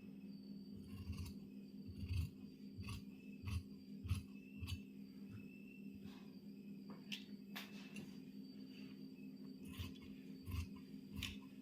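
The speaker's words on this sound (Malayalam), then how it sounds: "നമുക്ക് വേണ്ടാത്ത ഭാഗങ്ങളൊക്കെ നമുക്ക് കട്ട് ചെയ്ത് കളയാം" Scissors snip through churidar fabric during tailoring: a steady run of sharp, evenly spaced cuts, close and fairly quiet, over a low constant hum.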